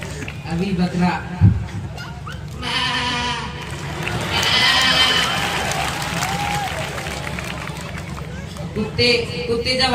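A voice imitates a billy goat's bleat in a few drawn-out, wavering calls amid crowd noise and chatter outdoors, moderately loud and close.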